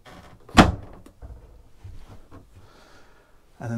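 A storage cabinet door on a Fountaine Pajot Elba 45 catamaran yacht swings shut with one sharp, close thud. Quiet handling and small knocks follow, then another soft bump at the end.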